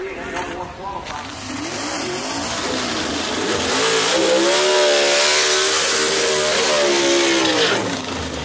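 A gasser drag race car launches down Gulfport Dragway, its engine rising in a loud, sustained pitch-climbing roar that stays close and steady, with an announcer talking over the run.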